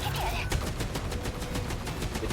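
Rapid cannon fire in the 13 Sentinels video game, a dense run of repeated blasts at an even rhythm over a steady rumbling combat din, loud and close.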